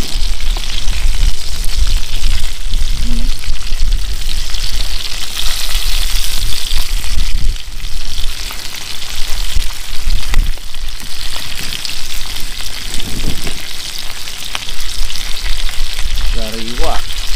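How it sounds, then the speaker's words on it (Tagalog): Fish fillets frying in a crowded pan of hot oil, a steady loud sizzle and crackle running throughout with small spatters and scrapes, no talking. "Ngayon, baliktarin muna natin yung ating mga piniprito mga kabayan."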